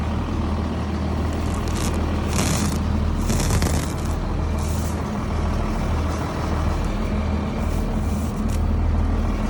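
A farm feed mixer with worn knives chops hay bales, a steady loud mechanical drone and rumble running throughout with occasional clattering bursts as the bale is torn apart.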